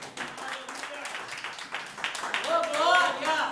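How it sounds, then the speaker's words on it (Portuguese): A church congregation applauds for Jesus, a soft, scattered patter of clapping that swells a little toward the end, with a voice speaking over it. "Dando uma salva de palmas para Jesus"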